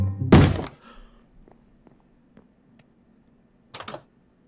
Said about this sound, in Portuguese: Ele deu uma pancada na porta, velho.